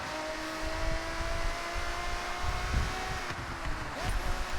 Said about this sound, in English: The car noises in this game, they did chef's kiss.